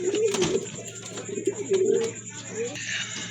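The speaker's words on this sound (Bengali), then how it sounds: "এই যে দেখেন কবুতর আমি একটু কাছে থেকে দেখা দিচ্ছি" Pigeons kept for sale cooing close by in a series of low, throaty, rolling calls, with faint voices murmuring in the background.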